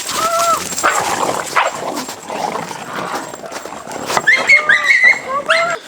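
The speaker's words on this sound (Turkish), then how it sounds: "köpekler biraz kavga etti" Dogs barking and yelping in a scuffle, with growls and whines mixed in, close by and fairly loud amid background chatter.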